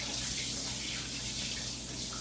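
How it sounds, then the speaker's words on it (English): Tap water runs steadily to rinse a cured pork belly during home bacon making, a continuous close hiss and splash with no talking. "So what I'm going to just do is just turn the water on. Just going to rinse all this off like this here."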